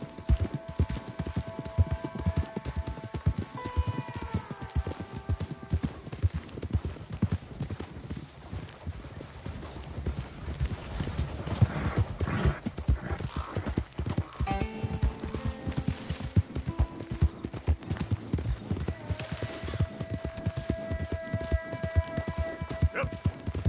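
Horse galloping in Red Dead Redemption II: steady rapid clip-clop of hooves throughout, close and continuous, with occasional whinnies, game music and a voice talking at times.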